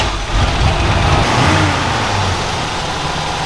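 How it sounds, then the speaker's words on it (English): A Ford Bronco engine runs just after starting, a close, loud, rough rumble with a brief rise in revs early on before settling into a steady warm-up idle, without any talking. "I'm gonna fire it up and see if it runs"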